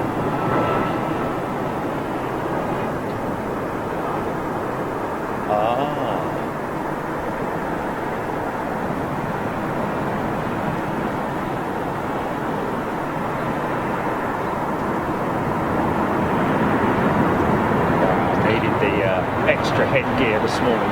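An Aer Lingus airliner in new livery at Heathrow produces a steady, broad jet roar that swells slightly toward the end, heard from a distance.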